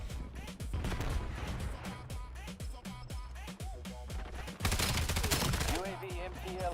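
Call of Duty multiplayer gunfire crackles in rapid bursts, loud sharp shots from a shotgun and other weapons stacking into a chaotic firefight, growing heavier and louder toward the end.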